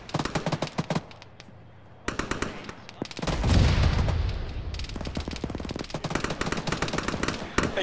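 Gunfire rattles in an Arma battle with the ShackTac group: rapid machine-gun bursts and single shots crack close by, a brief lull, then a louder stretch of dense, rumbling firing.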